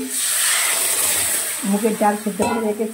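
Boiled golden moong dal poured into a pan of sizzling tempering with dried chilli, bay leaf, cumin and mustard, a steady hiss that breaks into bubbling and spluttering as the dal hits the hot oil, with a voice speaking over it.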